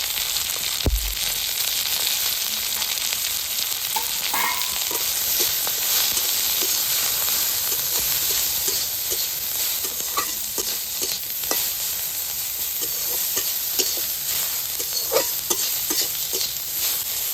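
Green chillies and chopped tomato frying with onion and garlic in a hot pan, giving a continuous close sizzle with frequent stirring scrapes and light clinks, no voices.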